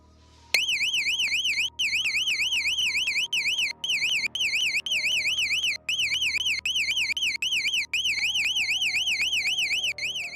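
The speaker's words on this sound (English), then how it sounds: "he triggered the alarm, sending a deafening sound throughout the home" A home intruder alarm blares loud and continuous, a rapidly warbling electronic siren pulsing steadily for about ten seconds with only brief dropouts, no voices present.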